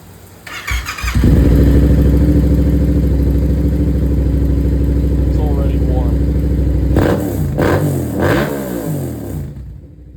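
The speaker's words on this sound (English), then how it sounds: "this bike sounds absolutely insane" A middleweight naked motorcycle idles with a deep, steady rumble, then the exhaust snaps through several sharp revs to about 6,000–7,000 RPM before cutting off; loud and close.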